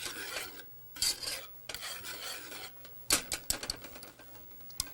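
A spoon scrapes and rasps around a pot of cheese sauce as the cheese melts, in uneven bursts of stirring with short pauses between.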